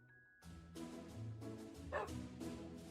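A Minecraft dog gives a run of short, soft barks at a steady pace, fairly faint and with no talking over it.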